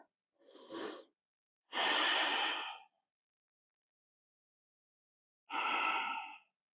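Deep yoga breaths held in a humble warrior pose: three separate breathy exhalations, close and airy, with silent gaps between them and no speech.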